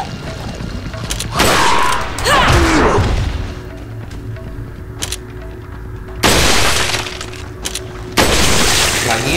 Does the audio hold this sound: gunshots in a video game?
yes